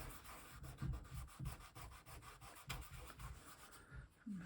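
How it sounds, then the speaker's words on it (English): Soft rubbing strokes of a cloth burnishing printed paper glued down on a collage, faint and close, with uneven repeated swipes. "I have my cloth here to burnish it down."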